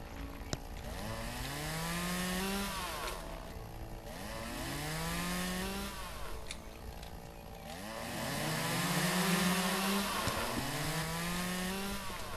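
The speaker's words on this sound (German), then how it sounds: "Kettensäge." Chainsaw in the video game Lumberjack's Dynasty cutting through bushes, a loud, close engine buzz revving up and down in repeated sweeps across the whole stretch with no talk over it.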